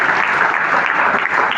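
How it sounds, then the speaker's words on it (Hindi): Loud, close applause from an audience at a public event launching a sports festival registration drive, a continuous dense roar of many hands clapping evenly throughout with no voices on top. "दोनों के लिए जोरदार ताली बजाइए।"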